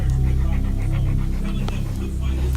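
A dog pants close to the microphone, its quick, rhythmic breaths repeating steadily and loudly from start to finish.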